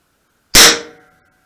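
A homemade gun fires a 6mm plastic ball with a flobert blank: one sharp, loud crack that cuts out of silence and rings away within half a second.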